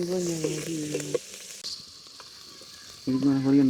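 Dried salted fish frying in hot oil for a fish curry gives a close, steady sizzle, with a tonal voice-like sound at the start and again at the end.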